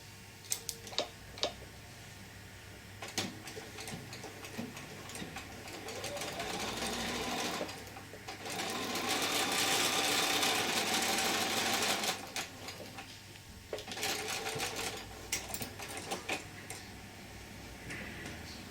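Sewing machine stitching a fabric face mask, running in steady bursts of several seconds each, loudest in the middle, with short pauses and light ticking handling sounds between runs.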